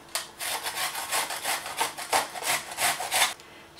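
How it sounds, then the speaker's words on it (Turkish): Onions rubbed on the fine side of a hand grater for potato köfte, a quick regular series of close rasping strokes, about a dozen, with no voices. "Soğanlarımı da yine rendenin ince uçlu kısmıyla rendeliyorum."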